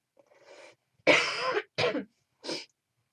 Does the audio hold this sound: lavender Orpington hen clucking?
no